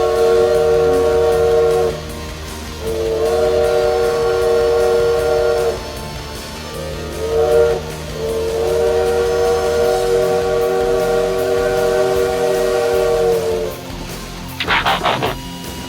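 A steam train whistle blows in long sustained blasts with short gaps between them, loud and close, over a low rumbling engine, ending with a brief hiss of steam.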